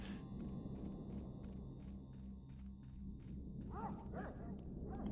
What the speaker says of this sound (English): This game provides its own dog noises